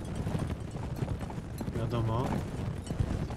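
Horse hooves gallop in Mount & Blade: With Fire and Sword, a quick, busy clip-clop of hoofbeats running steadily through the battle noise while someone briefly speaks over it.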